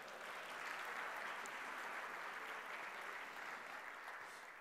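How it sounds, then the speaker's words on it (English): Steady audience clapping at an entrepreneurship talk, a dense, even patter of many hands sustained for the whole stretch at moderate distance, with no voices on top. "So somewhere we say, yeah, everybody can clap,"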